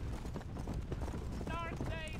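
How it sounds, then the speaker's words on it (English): Horse hooves clip-clopping in a cowboy video game, a steady rhythmic trot under continuous low rumble and game music, with someone talking over it. "My horse is trying to leave."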